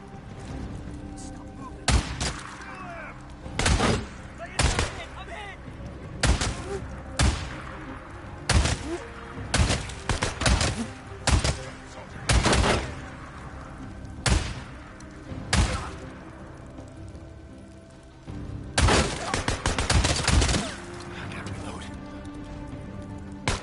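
Shotgun blasts from the Days Gone video game, a rapid string of loud, close booming shots fired in bursts with brief pauses, layered over a continuous game backdrop.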